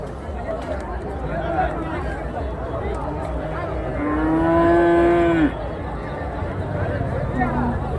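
Cattle at the Chintamani cattle market in Karnataka, with one cow letting out a long, loud moo midway through amid a busy background of market chatter and crowd noise.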